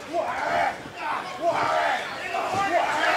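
Large wrestling crowd at a WrestleCon match between Jeff Cobb and Tomohiro Ishii, roaring and shouting in loud, continuous swells that rise and fall across the clip.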